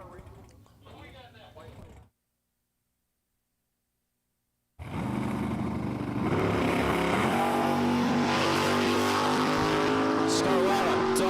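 The Scarlatta Racing Nova makes a drag racing run at Empire Dragway. After a brief silence, the engine roars in loud and climbs through rising, sustained revs as the car launches down the strip.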